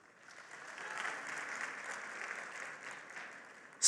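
An audience at a talk by pollster Dr Frank Luntz breaks into applause, a dense wash of clapping that swells quickly and holds steady, then ends with a sudden loud burst close by.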